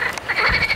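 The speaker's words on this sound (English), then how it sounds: "The terrible noise we can hear is coming from many frogs inhabiting the nearby river" Dense frog croaking from a river in Iran fills the air in quick overlapping calls, close and fairly loud.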